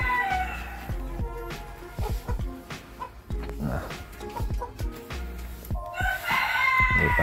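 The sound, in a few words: Bantam Cochin chickens crowing and clucking in a coop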